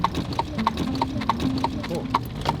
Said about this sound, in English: Horse and buggies are our main transportation.